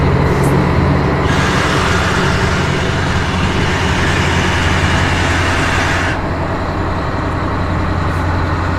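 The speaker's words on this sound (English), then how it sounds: "the fire engine's starting out behind me" A fire engine starts up and pulls away at an aircraft retirement flight event, giving a loud, close, steady engine roar over a deep rumble that thins out toward the end as it moves off.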